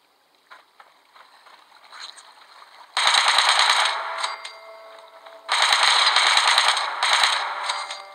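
Bursts of rapid automatic gunfire in Fallout 76, two long loud volleys separated by a quieter stretch of faint clicks and rattles.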